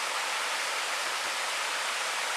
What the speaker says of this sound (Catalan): De camí ens hem trobat aquí amb aquesta cascada